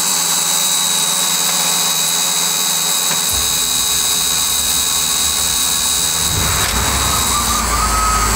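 A school bus conversion's engine runs steadily while warming up, a broad continuous roar with a rising whine partway through, loud and close with no talk.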